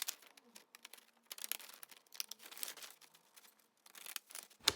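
Scissors cut paper for a junk journal collage, making quiet, close, crisp snips and light rustling in an irregular rhythm.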